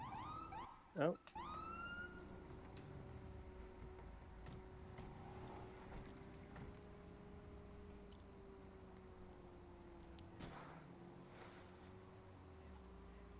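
A faint siren wails steadily in the distance for most of the stretch, with a brief spoken exclamation near the start over low background rumble.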